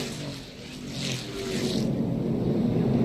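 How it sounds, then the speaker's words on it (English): A NASCAR race car engine failing during the 2018 First Data 500 drones from a distance, its steady roar shifting tone as it lays down, with broad crowd and track noise and light talk in the background. "You hear the engine lay down. It changed tones."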